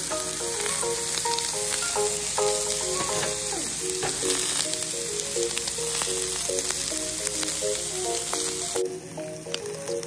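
Vegetables sizzle loudly in a hot pan while being stir-fried, a continuous crackling hiss with scraping sounds, close and steady.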